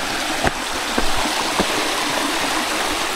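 Rushing water from the waterfall stream at Suptadhara in Sitakunda makes a loud, continuous broadband roar, with a few faint knocks nearby and no voices.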